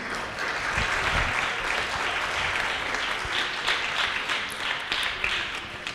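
Applause from an audience at an evening tribute event for an honoree fills the whole stretch as dense, steady clapping, loud and continuous without a break.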